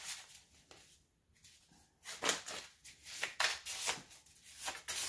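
Tarot cards being shuffled by hand, a rapid sequence of crisp riffling and sliding bursts, close and fairly quiet, with brief pauses between shuffles.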